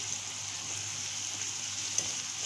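Tomato, chilli and spices frying in ghee give a soft, even sizzle with a faint high whine and one small tick, quiet and close, with nobody talking.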